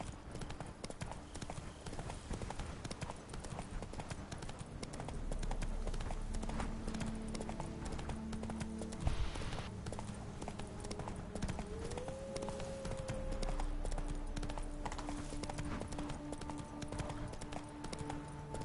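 Steady clip-clop of horse hooves on a path in The Witcher 3, rhythmic and close, running through the whole stretch beneath game ambience and a brief low tone.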